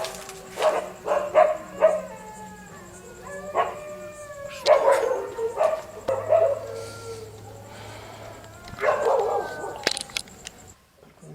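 Several dogs bark and howl in repeated close bursts, with yips and drawn-out wavering howls that rise and fall, separated by short pauses.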